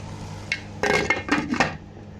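Metal lid set onto a cooking pan while sprouted mung beans cook, a few sharp clinks and clatters close by, brief and alone without talk.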